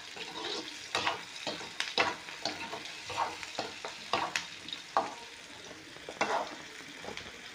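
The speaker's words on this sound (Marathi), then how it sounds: "तर आपल्याला हे कांदे थोडेसे लालसर होईपर्यंत शिजू द्यायचे आहे।" Onions and red chillies frying in a pan, a soft sizzle broken by repeated sharp scrapes and clinks of a spoon stirring at an uneven rhythm.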